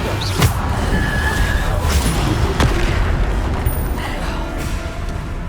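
In the PC game Hogwarts Legacy, the Bombarda explosion spell goes off during a spell-heavy combat sequence, with heavy booms and blasts bursting over a dense, continuous wash of battle noise.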